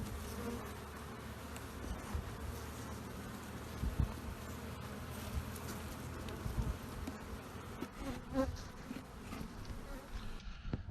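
Honeybees buzzing steadily throughout a January hive inspection, a dense, continuous drone close to the microphone with a few louder passes and light handling sounds.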